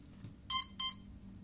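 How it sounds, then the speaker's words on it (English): A drone's ESC gives two short, bright electronic beeps in quick succession after the battery is plugged in, over a faint background hum. "those two beeps there"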